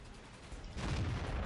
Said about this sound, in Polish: i strzał na wiwat jeszcze